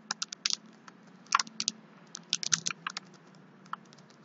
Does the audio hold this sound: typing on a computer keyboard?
yes